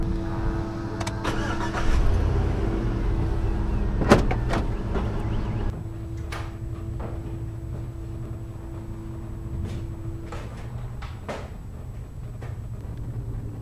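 A car engine starts up with a low idle hum, followed by door and mechanical clicks, then settles into a steady running drone as the vehicle pulls away at close range, with no talk.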